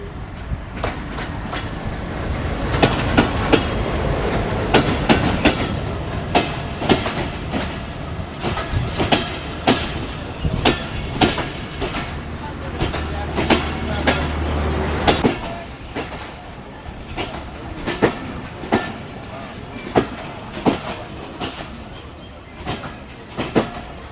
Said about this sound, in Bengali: রাজশাহী থেকে চিলাহাটি যাওয়ার তিতুমির এক্সপ্রেস ট্রেন জয়পুরহাট স্টেশনে প্রবেশ করতেছে